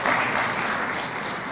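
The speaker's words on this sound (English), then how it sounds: "Please clap for our Speaker." An audience at a Kenyan young parliamentarians event claps for the Speaker of the National Assembly, a loud, dense and steady wash of applause throughout with no break.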